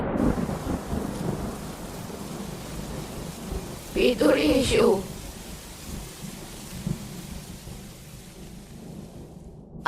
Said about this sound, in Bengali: কিন্তু মাঝপথে শুরু হলো তুমুল বৃষ্টি